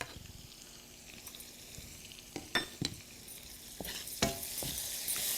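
Bitter melon and potatoes fry in an uncovered pan with chili, a close, steady sizzle punctuated by clinks and scrapes of a utensil stirring, rising louder toward the end.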